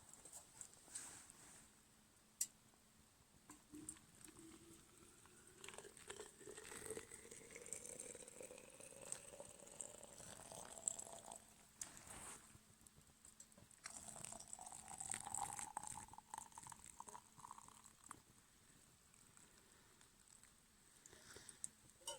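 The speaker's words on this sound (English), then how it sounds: "some boiling water." Boiling water pours into a plastic Nalgene bottle holding chaga and juniper, the pitch rising steadily as it fills, faint and close, with some light clinks and knocks.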